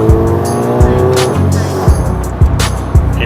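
A car fitted with a JB4 tune, a new downpipe and an exhaust resonator runs loud and close, its engine note climbing through repeated gear pulls with sharp bursts between them.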